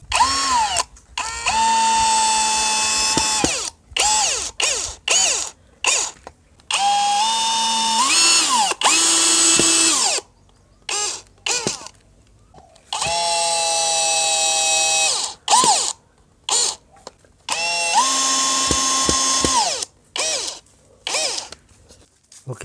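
A power drill drills holes and drives screws to mount a cover over an air conditioner drain pipe, in repeated whining bursts with speed rising and falling and short pauses between runs, loud and close with no talking.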